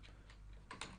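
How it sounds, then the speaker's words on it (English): A few faint, quiet keystrokes on a computer keyboard, sparse clicks within a second. "If I click once, okay, and I start typing,"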